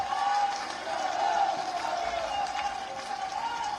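Audience applause for Chief Minister Yogi Adityanath at a public event in Lucknow, Uttar Pradesh: a steady, continuous wash of crowd clapping that carries at an even level for several seconds.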